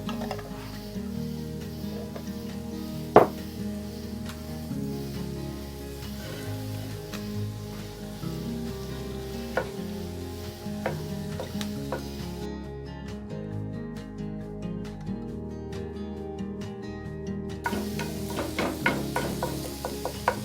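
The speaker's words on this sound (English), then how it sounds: "I'm making a lot of noise hitting that cast iron, but I want my sausage in little bitty pieces" Continuous sizzling of sausage in a hot cast iron pan with repeated sharp metallic clanks and scrapes of a spatula breaking it into small pieces, close up, no talking.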